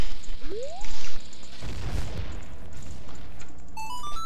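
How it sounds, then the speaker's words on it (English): A bomb blasts against a cracked wall in the video game Zelda: Majora's Mask, a rising whistle leading into a loud boom with rumbling debris, followed by bright chiming tones. "You need bombs for this wall."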